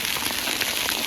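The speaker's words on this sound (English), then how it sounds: "Caught in the hailstorm." Hail pelts down during a hailstorm on the Camino de Santiago, a dense, continuous hiss and clatter of stones striking the ground and surfaces close by, steady and loud for about a second.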